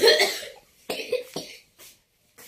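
A child coughs several times in short bursts, a cluster at the start followed by a few weaker coughs with pauses between, close and fairly clear.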